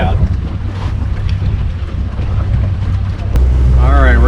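Small motorboat idling slowly across a windy Colorado reservoir, its low engine drone steady and close beneath heavy wind buffeting the microphone, with a voice briefly heard near the end.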